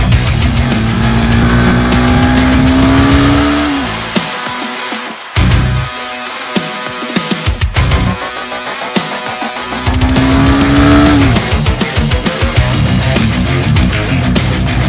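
A Honda Hornet 2.0 motorcycle engine revs up hard in two loud sweeping pulls separated by a quieter idle and brief throttle blips, close and dominant with no talk.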